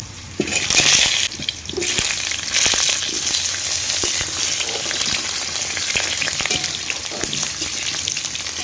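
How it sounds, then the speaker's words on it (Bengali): Potatoes fry in hot oil in a wok, a dense, steady sizzle running loud throughout with a few clinks near the start, while rain and a storm may also be present in the background. "এবার আলুগুলো ভেজে নেব।"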